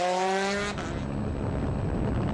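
Mini S2000 rally car driven by Václav Peik on a rally stage in the ERC Jänner Rally, engine note rising in clear harmonic tones before dropping into a broad roar of tyres and gravel as it passes close by.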